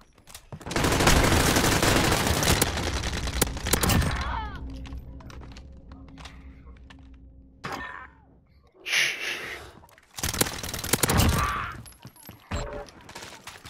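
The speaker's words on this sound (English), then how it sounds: "I just killed 2 people with an Uzi" Uzi gunfire in Call of Duty: Modern Warfare, a loud rapid burst followed by quieter game noise, then more sharp bursts and impacts later on.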